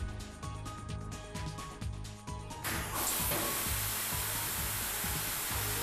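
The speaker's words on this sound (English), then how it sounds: "By pushing this button, the sprinkler system starts spraying immediately" A Volvo wheel loader's fire suppression sprinklers burst into a loud, steady spray of wet chemical liquid, a broad hiss cutting in over the machine's low, rumbling diesel drone and continuing without a break.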